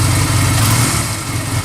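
A motorcycle engine runs loud and close with a low, steady rumble and a slight swell as the throttle is blipped, with no talking over it.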